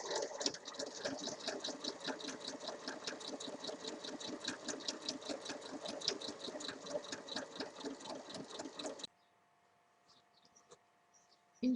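A sewing machine stitches fabric pieces of a tote bag together, a fast, even run of close mechanical clatter that stops abruptly near the end, followed by near silence and a faint click.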